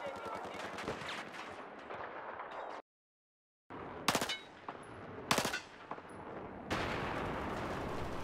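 A P90 fires in Battlefield 4 gameplay, rapid automatic bursts broken by a brief silent gap, then short sharp volleys and a final sustained stream of fire over game effects.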